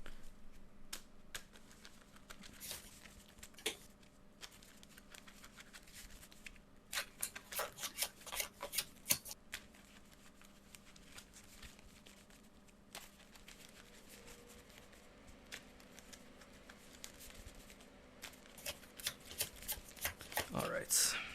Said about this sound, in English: let's shuffle these up, and then I'll draw a card